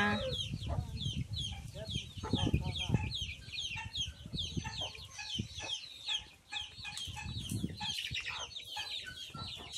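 Chickens clucking at a rural smallholding after being given corn, a steady stream of busy, overlapping clucks and calls close by, with bursts of people talking and other low background noise underneath.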